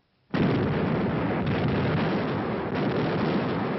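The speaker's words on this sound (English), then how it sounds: "For days, long-range guns hurled ton after ton of high explosives into the heart of the city." German long-range artillery shells Leningrad during the Second World War: after a short silence, a loud, dense roar of heavy blasts starts abruptly and rumbles on without a break.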